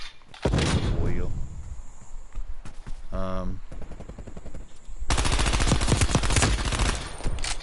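Gunfire in Black Ops Cold War, with bursts of rapid automatic fire and single sharp shots, close and loud, broken by brief pauses and a mechanical clatter, and a voice talking faintly underneath.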